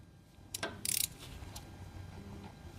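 Ratcheting clicks and metallic tool noises sound as oil filter cap bolts are hand-tightened on a CFMOTO ZFORCE, a short rapid ratchet run among a few scattered taps, close but quiet.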